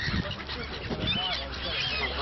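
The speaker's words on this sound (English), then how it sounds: "Oh, look at those ducks." Ducks gathered to be fed make a brief burst of nasal honking and quacking calls, fairly faint and close together, over soft outdoor background noise.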